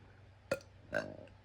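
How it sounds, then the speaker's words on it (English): Two short burps from a person who has just woken up, the second longer and more drawn out, close to the microphone in a quiet room. "why am I burping?"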